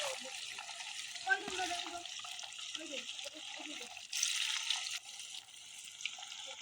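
Chicken pakoras frying in hot oil, a steady broadband crackle and hiss that holds close and continuous throughout, with a denser surge midway, while a voice speaks over it now and then.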